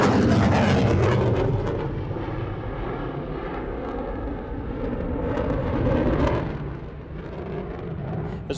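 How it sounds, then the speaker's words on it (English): A McDonnell Douglas F-15 Eagle jet roars through a 360-degree 9G turn at an air show, a loud, rough, continuous engine rush that surges, eases and swells again as the jet sweeps around. "demonstrate the F-15's exceptional turn capability"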